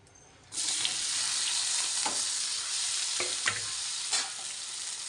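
Garlic, onion and chili frying in a pan over a high gas flame, a steady loud sizzle that starts abruptly after a brief quiet moment, with a few faint clinks of stirring.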